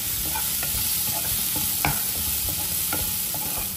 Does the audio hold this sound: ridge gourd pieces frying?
yes